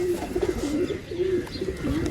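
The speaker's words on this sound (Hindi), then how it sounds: "2 कबूतर ये आए जी।" Pigeons cooing softly in a steady, repeated low warble, several soft calls close by with faint background noise.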